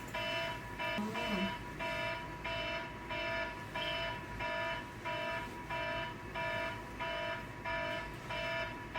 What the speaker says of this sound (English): Hey, your alarm is on.